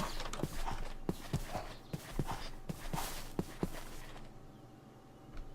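Horse hooves clip-clop in modded Minecraft 1.11.2, a run of sharp, evenly spaced hoof taps at close range over a soft game ambience, then trailing off into quiet.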